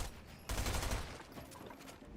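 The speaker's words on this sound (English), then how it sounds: "Loves this SMG, doesn't he?" A rapid burst of SMG fire in the Fortnite video game erupts loudly after a quieter moment, then fades into softer trailing shots and game noise.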